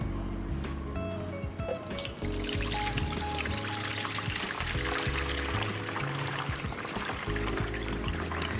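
Cloudy, milky rice-washing water pours out of a bowl while preparing sushi rice, a steady close-up splashing stream that runs unbroken for several seconds.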